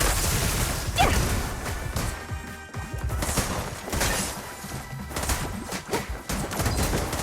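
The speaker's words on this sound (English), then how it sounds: "No restrictions! Fire at will!" Rapid gunfire erupts in Zenless Zone Zero, with dense volleys of shots mixed with crashes, shattering and whooshes, loud and continuous throughout.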